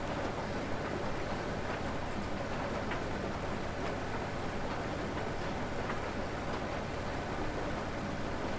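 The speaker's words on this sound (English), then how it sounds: "damage from a train." A train in the Farming Simulator 17 video game passes with a steady, loud rumbling roar and clatter that fills the whole stretch without a break.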